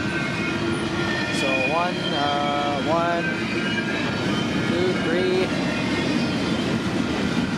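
Trains pass along a railway under a smoky sky, a steady rolling rumble carrying several short, repeated horn blasts in the middle, with a voice speaking briefly at the start.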